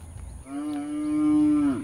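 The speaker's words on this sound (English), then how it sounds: "And these are the miniature cows." A Chittagong miniature zebu cow gives a single long, close, clear moo that holds steady for over a second before trailing off, with faint outdoor background beforehand.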